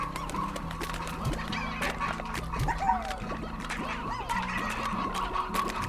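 An elder rooster in Slime Rancher clucks among other farm animal calls, a busy mix of clucks and squawks over background game music.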